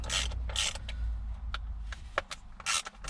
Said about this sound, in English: the next step is to remove these 4 T20 bolts that hold in this top of the gear stick housing